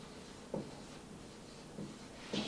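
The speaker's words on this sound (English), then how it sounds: "I'm going to write up here" Marker strokes on a whiteboard during a biochemistry lesson on enzymes, a few short, soft squeaky scrapes spaced apart, faint and close in a quiet room.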